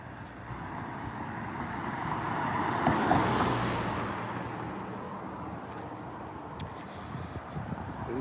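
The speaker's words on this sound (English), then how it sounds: "this car is coming around the roundabout in front of me." A car passes nearby driving around a roundabout, with a swelling then fading road and engine hum over steady distant traffic noise.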